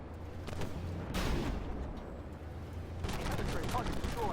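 Tank cannon rounds firing in the Armored Warfare video game, heard as repeated heavy blasts and bursts over a rumbling battle din during a PvE match, with louder shots clustered near the start and end.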